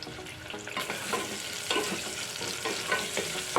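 Onion frying in oil with whole spices, cumin, mustard seeds, green chillies and curry leaves for a potato and meal maker curry, a steady close sizzle broken by scraping stirs, no voices.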